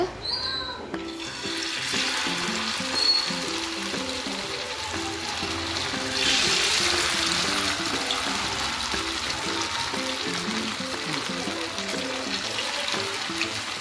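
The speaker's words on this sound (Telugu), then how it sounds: "1 hour తర్వాత బయటికి తీసేసి ఫిష్ ఫ్రై చేసుకోవాలి." Fish pieces shallow frying in oil in a pan give a steady, continuous sizzle that runs throughout with no pauses, close to the mic and moderately loud, with a few clinks and faint background noise over it.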